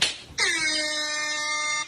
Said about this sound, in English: Did I forget to mention the sip alarm? Every time it goes off, take a sip of that cocktail.